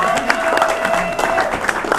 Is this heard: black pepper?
no